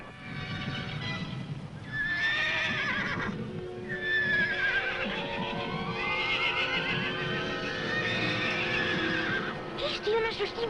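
A white stallion neighs among other horses at a ranch, with loud, long whinnies rising and falling over one another and hooves clopping beneath, joined by brief voices and period drama music.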